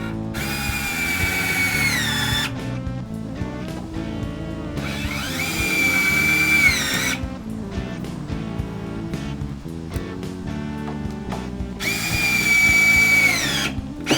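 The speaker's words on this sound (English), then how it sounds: "go ahead and sink a screw in just a little ways" A power drill drives a screw into a wooden picnic table brace in three loud, close whirring bursts, each revving up and straining, with brief pauses between them.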